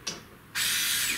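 A ratchet wrench tightening a bolt on a QueenAnt PRO V2 CNC router frame, a quick faint click followed by a loud, steady buzzing ratchet run up close.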